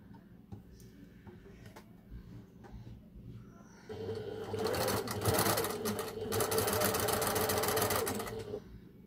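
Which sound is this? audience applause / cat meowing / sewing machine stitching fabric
sewing machine stitching fabric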